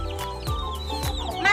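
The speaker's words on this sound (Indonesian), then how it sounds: "Saya punya banyak ayam loh ibu-ibu." Backyard chickens kept on an Indonesian home garden plot cluck close by, several short, sharp clucks and squawks in quick, uneven succession, fairly loud and clear.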